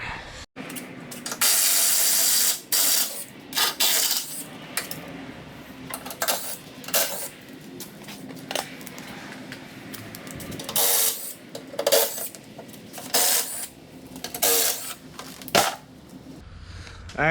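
Bolts being removed from a car's splash shield: irregular metallic clinks, ratchet clicks and rattling tool handling, close and moderately loud, with scattered pauses throughout.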